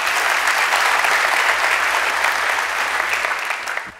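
Audience applause at a talk on relationships, a loud, dense burst of clapping that holds steady and then tapers off near the end.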